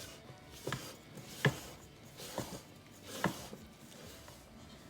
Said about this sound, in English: And then stir it with your wooden spoon until the dough begins to form.